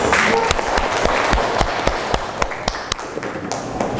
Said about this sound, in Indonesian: tepuk tangan untuk Bilqis